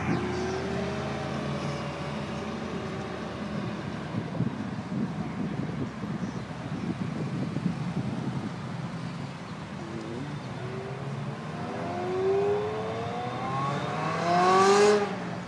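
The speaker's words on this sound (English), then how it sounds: "Best sounding car I've ever heard." A car engine revs and accelerates at a motor sales festival of speed, rising pitched tones sweeping upward with wind noise, building to a louder close pass near the end.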